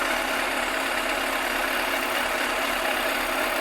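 A Yamaha FZR1000 EXUP motorcycle engine idles steadily during carburettor balancing, giving a continuous close, even mechanical rumble with no talking.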